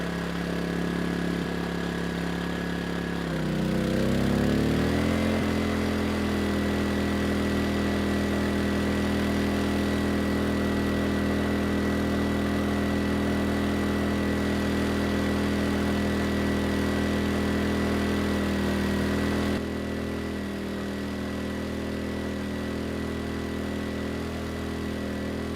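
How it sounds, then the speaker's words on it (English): Erayak 4500PD dual fuel inverter generator engine, revving up and holding a loud, steady drone under a 3,000-watt load, with a slight change in tone near the end. "The engine not having any issue at all pulling that load."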